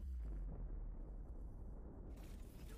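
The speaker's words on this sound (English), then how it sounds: "Explosion!" A deep, roaring explosion from an explosion magic spell in the Konosuba anime rumbles continuously with heavy low-end, then a brighter noisy burst rises near the end.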